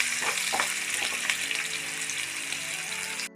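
Ginger with salt frying in a pan for ginger pachadi, a steady close sizzle with a few soft stirring knocks, no talk, cutting off abruptly at the end.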